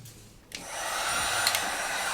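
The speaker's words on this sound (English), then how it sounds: "What you wanna do is heat up the sides of the screen with the heat gun so you can get that glue loose" A heat gun starts up and runs with a steady, close blowing roar as it heats the edges of an iPad screen to loosen the glue, and no one talks.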